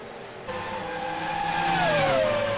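A touring race car engine at the Bahrain circuit, a steady loud whine that rises and then bends downward in pitch as the car slipstreams past another car, with no talk.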